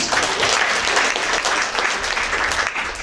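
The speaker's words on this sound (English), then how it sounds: "Give her a big round of applause." A sorority chapter audience applauds steadily and loudly for about three seconds, a dense wash of many hands clapping with no voices over it.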